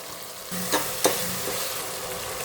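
Tomatoes with salt frying in a pan, a continuous close sizzle with a couple of sharp stirring scrapes early on, no voices.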